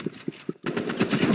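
Gunfire in a video game: three spaced single shots, a brief gap, then a sustained rapid burst of automatic fire, loud and close.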